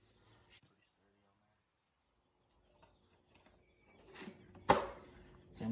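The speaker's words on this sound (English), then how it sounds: "Same with that, it just snaps. I don't know if you're able to hear the snap." Attachment snapping onto a Ryobi 18V cordless blower: one sharp plastic click stands out near the end of a mostly quiet stretch, with faint handling noises and soft background voice around it.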